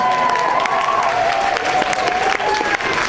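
An audience at a school performance event applauds the teachers, a steady wash of clapping with some cheering, while a sustained tone runs underneath and a voice speaks through it.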